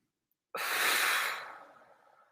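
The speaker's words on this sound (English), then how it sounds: "And then breathe it all the way back out." A single long, close exhale through the mouth follows a moment of silence, starting strong and breathy, then fading slowly into a soft tail.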